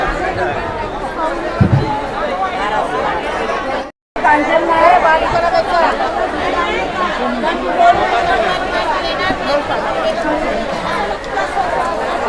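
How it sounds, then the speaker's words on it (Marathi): Dense crowd chatter at the Malad wholesale fish market in Mumbai, early morning, a steady loud hubbub of many overlapping voices close around that continues throughout with a brief dropout near the middle. "तुम्ही गर्दी पाहू शकता."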